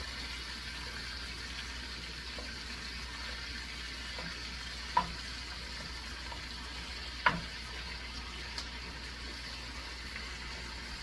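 Ground beef frying in a pan for chilli, a faint, steady sizzle with a few soft knocks of a utensil against the pan.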